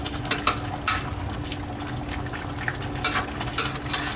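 Rib curry with kaffir lime leaves simmering in a pot, a steady soft bubbling and gentle stirring clatter at moderate volume with no talk.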